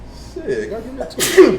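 A sneeze bursts out loudly near the end, right after a person mutters a few casual words outdoors.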